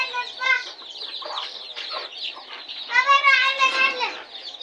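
Hens clucking at a backyard poultry farm where desi chickens are kept in wire-mesh pens, a near and fairly loud run of overlapping calls that grows busier toward the end.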